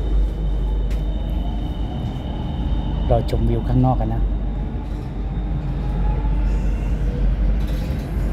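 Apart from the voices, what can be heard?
BTS skytrain running between stations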